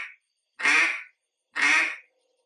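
A handheld duck call is blown to imitate a duck, giving two loud, raspy quacks, each about half a second long with a short pause between them, close and alone.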